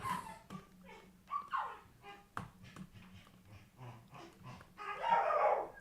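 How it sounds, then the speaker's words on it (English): A dog in the room barks and whimpers in short, uneven bursts that stand out over quiet background sounds. A louder yelp comes near the end. "Apologies if you can hear the dog."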